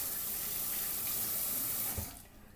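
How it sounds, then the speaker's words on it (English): Running water from a tap rinsing a paintbrush, a steady close hiss and splash that cuts off abruptly near the end. "you can rinse your brush off"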